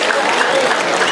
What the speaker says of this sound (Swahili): Wapi makofi ya Henry Motego?